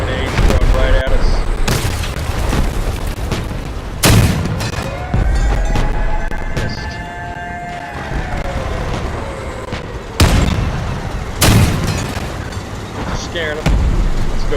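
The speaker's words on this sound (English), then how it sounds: "Those grenades throwing right at us." Grenade blasts in the vehicle combat game Crossout, several loud booming bursts at irregular intervals over a rumbling battle backdrop with a sustained mechanical hum between them.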